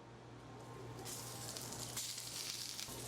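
Halved leeks laid cut side down in a hot, smoking pan, a continuous loud sizzle that swells as they hit the surface, with a low steady hum beneath.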